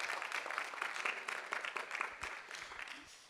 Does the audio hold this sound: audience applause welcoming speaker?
yes